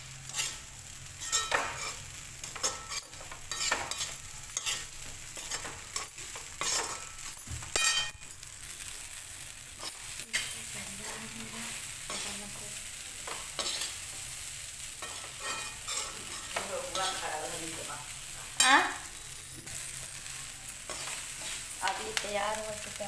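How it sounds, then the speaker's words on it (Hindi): Chura matar, flattened rice with peas, is stirred in a frying pan: a spoon scrapes and clatters repeatedly in an irregular rhythm over a soft, continuous sizzle, close and fairly loud. "चूरा मिक्स कर दिए हैं"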